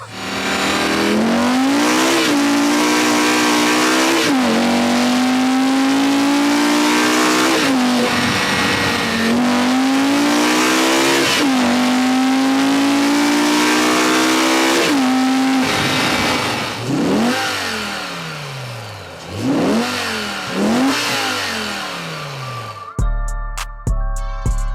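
A BMW E60 M5 with its S85 V10 engine revving hard, loud, repeated climbing wails that rise and drop in quick succession, close by, with the pitch sweeping upward on each pull before settling.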